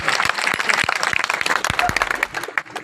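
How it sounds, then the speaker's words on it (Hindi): Audience applause at a BJP office land groundbreaking ceremony in Bundi, Rajasthan, honoring the buyer of the land: dense, steady clapping from a crowd throughout, with a few sharp louder claps standing out. "खरीदने वाले के लिए तो ताली बजाओ"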